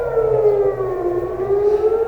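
Air raid sirens wail across Jerusalem during heavy rocket attacks, a steady, loud civil defense tone holding a sustained pitch with a slight downward drift, no voices over it.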